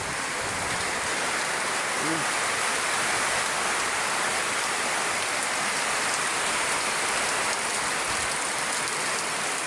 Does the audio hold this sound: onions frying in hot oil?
no